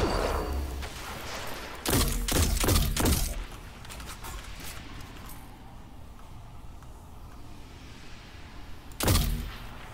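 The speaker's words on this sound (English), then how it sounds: "Who else is shooting at me?" Bursts of video game gunfire in a Destiny-style Prophecy dungeon run, a dense volley of sharp cracks followed by a single loud shot later, with a low ambient rumble in between.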